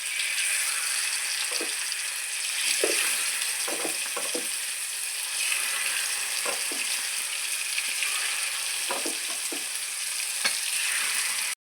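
Prawns sizzle and crackle steadily in hot oil for the whole stretch, a dense close frying hiss with scattered pops and faint clinks of a utensil.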